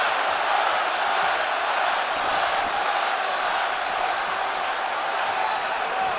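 A Las Vegas arena crowd roars steadily through a UFC heavyweight bout between Francis Ngannou and Derrick Lewis, a dense, constant murmur and din without any clear peaks.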